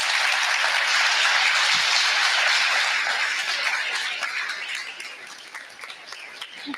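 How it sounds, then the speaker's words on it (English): Strong applause from a live marketing conference audience, loud and sustained at first, then thinning gradually into scattered claps toward the end. "give Mark Harbert a round of applause"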